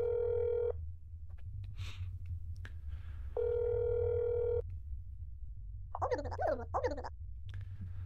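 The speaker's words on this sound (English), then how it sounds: "I'm just gonna call and check on him." In the video game That's Not My Neighbor, a telephone rings after an apartment number is dialed: two steady electronic ringback tones, separated by a pause, followed by a brief burst of voice on the line.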